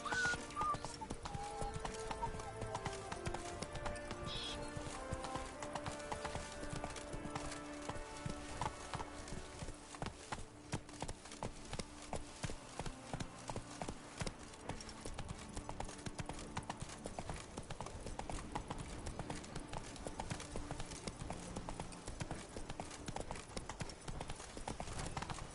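Horse hooves clip-clop steadily at a riding pace in The Witcher 3, continuous and fairly close, with game music and ambience layered underneath.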